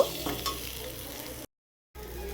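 Egg and potato curry sizzles and bubbles in a pan right after water is poured in, a steady close hiss with light stirring, broken by a short silent gap before the sizzle resumes.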